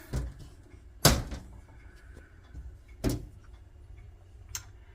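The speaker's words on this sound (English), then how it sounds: "Let me close this one door here" A cupboard door at home closes with a sharp knock, followed by a second similar knock two seconds later and a faint tap after that, all fairly quiet in a still room.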